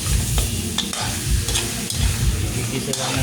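Beef sautéing with onion and garlic in a hot pan, giving a steady, loud, close sizzle broken by light scrapes as it is stirred.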